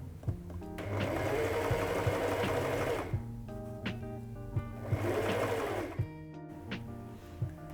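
A sewing machine stitches a seam on a zippered vertical pencil case, running in two steady buzzing bursts with a pause between and a few clicks and thumps of handling, close and clear without talk.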